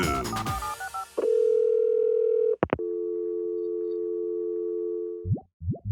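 Telephone line tones from a SpongeBob cartoon: a short burst of clicks and chirps, then a steady electronic dial tone, a sharp click, a longer sustained line tone and a couple of quick chirps at the end.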